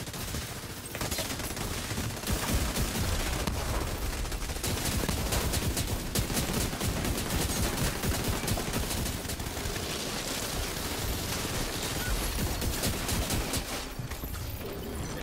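Gunfire in The Division 2, a dense, continuous fusillade of rapid shots at moderate distance that keeps going for about fifteen seconds with only brief lulls and no talking.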